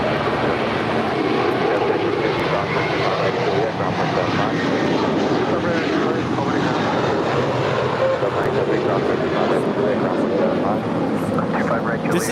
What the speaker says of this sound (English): This is American Airlines 1713 departing to Orlando. It's an A321.